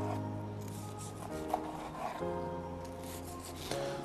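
Slow-roasted meat with a brown sugar and paprika rub crust gives off soft, close rubbing and scraping crunches, faint under a steady tonal kitchen hum.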